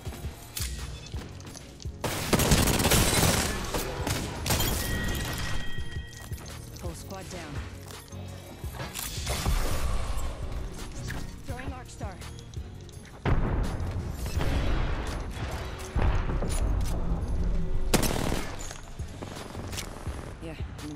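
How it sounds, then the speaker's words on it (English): Gunfire rattles through a match of the Apex Legends battle royale game, with repeated bursts of shots and impacts layered over dense in-game effects, loud and busy throughout, while a player talks over it. "Getting shot at."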